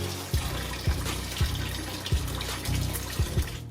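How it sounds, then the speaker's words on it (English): Tap water runs softly onto fresh basil leaves being rinsed, a faint, steady trickle broken by a few regular low knocks. "I'm just gonna rinse these to remove any excess dirt that may be on them"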